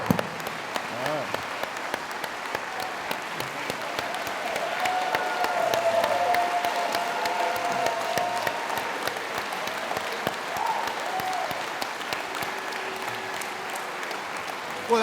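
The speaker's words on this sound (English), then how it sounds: "Well, that's a nice applause." An audience applauds warmly to welcome former NFL player Brian Dawkins at an evening event, a steady wash of clapping that swells around the middle and continues for the whole stretch, with a voice briefly audible underneath.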